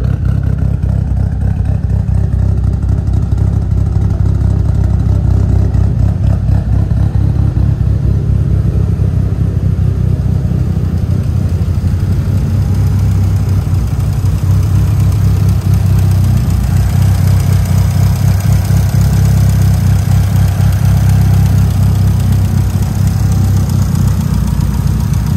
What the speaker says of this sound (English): Got those nice cams, give it a nice lope.